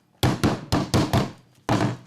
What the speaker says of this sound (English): And just go ahead and tighten it up with the hammer.